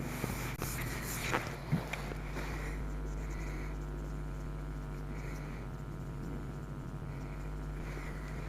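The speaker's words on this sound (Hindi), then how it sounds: "डेफिनेशन मैं लिखता हूं जल्दी से।" Pen or marker scratching quickly across a board or page as a chemistry definition is written by hand, faint scrapes with a couple of sharper strokes over a steady low hum, no talk.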